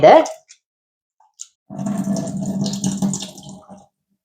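Water splashes and sloshes as quinoa is rinsed in a bowl for a couple of seconds after a short burst of speech, with faint clinks in the pause between.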